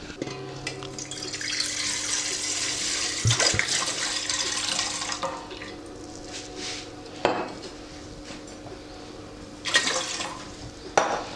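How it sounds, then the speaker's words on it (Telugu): Water pours into a pot in a continuous splashing rush for several seconds. Clanks of metal pots and utensils follow as it trails off. "లీటర్ వాటర్ పోసింది దీనిలో."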